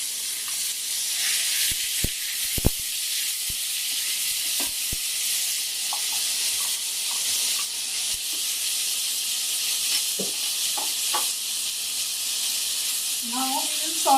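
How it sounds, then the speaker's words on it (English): Onions sauteing in a pan with cinnamon sticks, cloves, crushed green cardamoms and bay leaves, giving a steady hiss, with a few scattered clinks and stirring scrapes. "Now we will saute these onions till they are golden brown in color."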